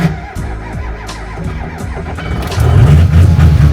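A luxury pickup truck left unplugged overnight is cold-started in 19-degree Alaska winter weather. It cranks unevenly at first, then catches and settles into a louder, rough, close rumble.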